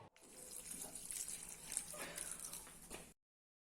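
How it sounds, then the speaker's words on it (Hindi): Two cups of water pour into okra cooking for bhindi masala, a short steady splashing stream lasting about three seconds before stopping. "अब हम भिंडी में 2 कप पानी डालेंगे।"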